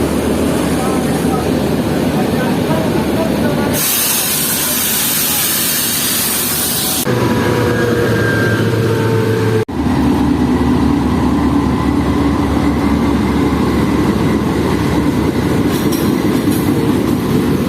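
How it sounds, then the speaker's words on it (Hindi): A Fareed Express locomotive idles and rumbles at a station between Lahore and Karachi as it is uncoupled, with a loud burst of hissing air midway and people talking nearby. "तो ये ट्रेन के रुकते ही फ़ौरन से ही इंजन को डिटैच करने का काम शुरू हो गया है।"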